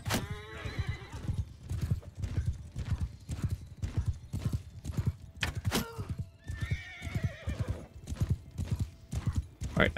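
Horse archers riding in the Mount & Blade II: Bannerlord video game, with loud rhythmic hoofbeats clip-clopping steadily and two clear neighs breaking through the galloping.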